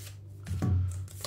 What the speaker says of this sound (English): for some reason I'm shuffling the cards